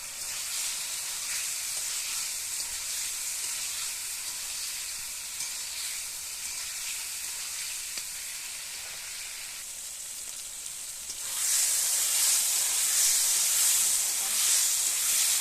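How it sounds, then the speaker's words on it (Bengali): Paneer masala sizzles steadily in a pan as it is sautéed, a continuous close hiss of frying that grows louder and brighter toward the end. "দেখো কষা হচ্ছে। এইভাবে কষতে থাকবো 2 মিনিট।"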